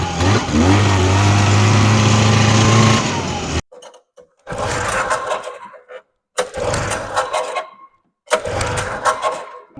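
An old Ski-Doo Alpine snowmobile engine, bought cheap and brought back to running order, roars loudly and steadily, then cuts out and restarts in several short revving bursts separated by brief silences.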